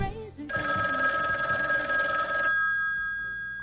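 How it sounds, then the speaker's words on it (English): A small skee ball rings like a telephone bell, a steady electronic trill lasting about two seconds before cutting off, loud and close, with a murmur of voices and arcade noise beneath it. "This little skee ball I'm holding is ringing like a phone."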